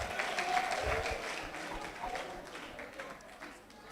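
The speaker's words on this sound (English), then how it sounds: "A big round of applause for her." Audience applause at a food industry award ceremony, a broad wash of clapping that holds steady through the moment and eases slightly toward the end, with faint crowd noise mixed in.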